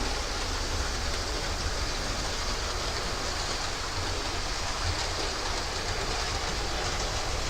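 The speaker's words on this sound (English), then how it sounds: "Is the train's a little bit too noisy?" A train passes close by, giving a steady, loud rumble with faint clickety-clack from the rails, continuous throughout and with no talking.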